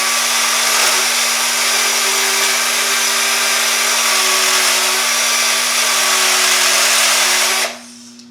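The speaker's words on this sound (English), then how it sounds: "I grab my gun, my screw gun, and I just kind of ream it out" A screw gun reams out an undersized hole with one loud, steady whine, running close and alone, then cuts off abruptly near the end.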